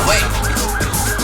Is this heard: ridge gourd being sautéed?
no